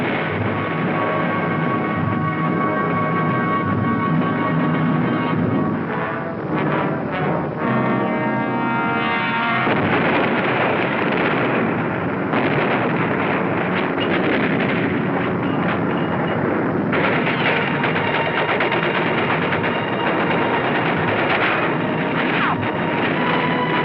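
Dense battle din on Iwo Jima in 1945, with continuous loud gunfire and artillery rumbling throughout, heavy low booms and crackling bursts layered together under an old, band-limited film soundtrack.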